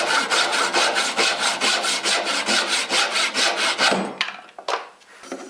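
A small dovetail saw cuts through hardwood runners, with quick, steady back-and-forth strokes that are loud and close for about four seconds, followed by a few scattered scrapes and knocks as the cut finishes.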